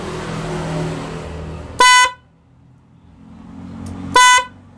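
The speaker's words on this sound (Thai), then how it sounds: "ก็จะเสียงดังหน่อยนะคะเพราะว่าเป็นเสียงแตรรถเลยเนาะ" A car horn wired through a newly installed horn relay, giving two loud, sharp bursts of roughly a quarter second each, separated by about two seconds of quiet with low engine hum between them.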